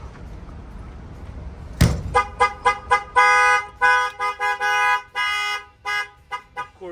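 A sharp thump, then a loud Snap-on tool truck's security alarm blaring in rapid, repeating bursts of tones and chirps, close by, with no talking.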